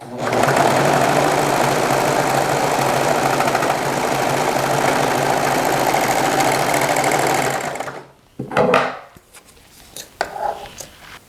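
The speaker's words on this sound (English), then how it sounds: "just go ahead and serge all the way down by cutting off this little tail" A serger sews a rolled hem down the edge of a fabric napkin with a loud, steady mechanical whir for about eight seconds, then stops abruptly, leaving a few soft handling clicks and rustles.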